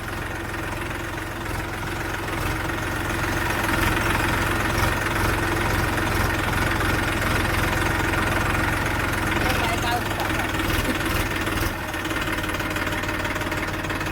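A tractor engine runs steadily nearby in a farm field, a loud continuous mid-pitched idle with knocking vibration throughout and a brief dip near the end.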